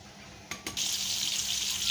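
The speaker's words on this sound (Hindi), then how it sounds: "इस पर हमने घी अभी डाला है, तो प्याज अभी हम इसमें डाल देते हैं" Onions frying in hot ghee give a steady, loud hiss that builds after a couple of brief bursts and then holds continuous and close.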